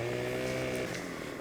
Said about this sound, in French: on va se prendre notre tronçonneuse.